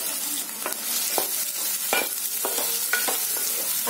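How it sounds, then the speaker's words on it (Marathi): Onion frying in hot oil with ginger and garlic for a tuna fish curry, a close steady sizzle broken by a series of scraping stirring strokes, with no voices. "कांदा चांगला लाल होईपर्यंत फ्राय करायचा"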